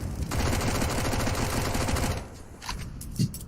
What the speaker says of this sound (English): Blame unloading his mag to try and feign presence